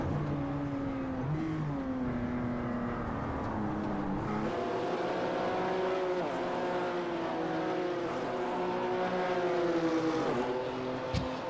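Race car engine in iRacing at Sebring, a dense sustained drone of several cars that rises and falls in pitch through the gears, loud and continuous with no speech.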